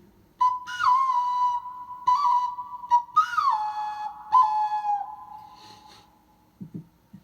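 A single-hole clay whistle is blown in a series of clear, shrill notes that bend and slide in pitch, with short pauses between phrases, close and loud.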